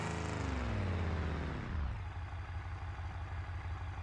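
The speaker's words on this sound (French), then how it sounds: "Le pot d'échappement, regardez, est également déconnecté, raison pour laquelle le bruit du véhicule est différent." A car engine with a disconnected exhaust in the BeamNG driving simulation runs loud and rough, starting with a falling, revving drone that settles into a steady clattering idle.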